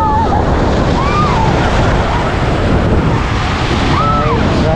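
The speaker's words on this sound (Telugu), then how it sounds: "ఇది మెరైన్ బీచ్." Ocean surf rolls and washes continuously at Marina Beach in Chennai, loud and close, while strong wind buffets the microphone throughout.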